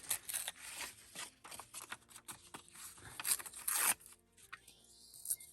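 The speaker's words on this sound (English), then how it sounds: "this book page doesn't like to rip straight here" A book page is torn by hand for a journal tag, giving close, papery ripping and rasping in uneven strokes, with one longer tear near the end.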